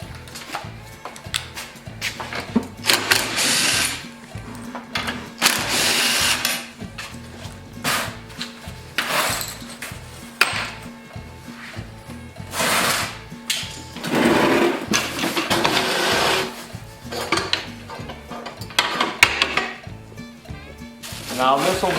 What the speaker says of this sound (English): we need to remove these two bolts with a 3/8 socket